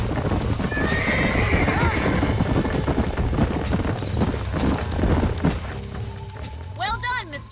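Horses in the Red Dead Redemption video game whinny and gallop with steady hoof clip-clop over a dense, continuous background, with a clear rising-and-falling neigh near the end.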